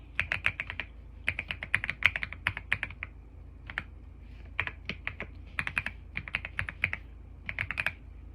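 Fingers type in quick bursts on a computer keyboard, entering a customer's email address in a tax invoice program; clusters of crisp keystrokes alternate with short pauses, close and fairly quiet, with no talking.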